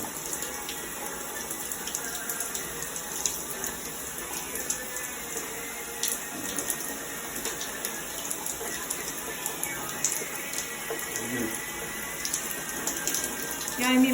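Hot water runs from a tap in a bathroom of a newly plumbed home, a steady close wash of flowing water that continues without a break.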